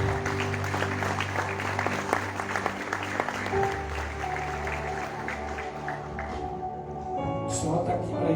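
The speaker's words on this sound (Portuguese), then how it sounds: "aplauda Jesus pela vida do irmão aqui." A church congregation in Itajaí, Santa Catarina, applauds steadily throughout, the clapping blended with sustained worship music and a voice over it.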